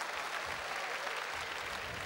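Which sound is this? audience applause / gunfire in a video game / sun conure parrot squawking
audience applause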